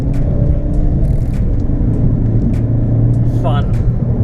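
A Ford Focus ST3 diesel engine drones steadily from inside the cabin while driving, a constant low rumble running under someone talking throughout.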